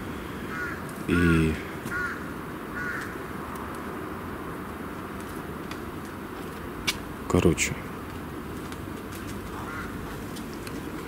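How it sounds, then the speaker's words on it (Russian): Crows cawing in a cemetery at night, with two loud, harsh bursts of calls and fainter caws in between, over low background hiss while people speak quietly nearby. "как они напрягают, эти вороны. И они такие звуки издают, ужасные"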